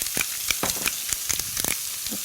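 Sliced zucchini sizzles lightly in a hot pan with scattered pops and stirring scrapes at a moderate, fairly close level, heard alone without talk.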